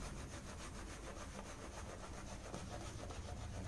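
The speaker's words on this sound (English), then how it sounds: "got some shaving cream or shaving soap on my Omega S brush, start applying the lather" An Omega S shaving brush works goat milk shaving soap into a lather on skin, making a close, continuous wet swishing and scrubbing sound in a quick, even back-and-forth rhythm with no talking.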